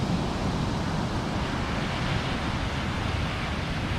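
Ocean waves wash onto the beach at Cape Henlopen State Park in Delaware on a morning visit, a dense continuous roar of surf mixed with some wind rumble, with no voices.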